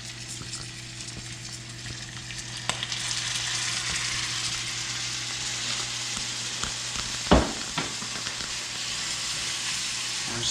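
Vegetable stock poured into a pan of potatoes, giving a steady, close sizzle and frying hiss that runs throughout, with one brief louder splash or clatter partway through and no talking.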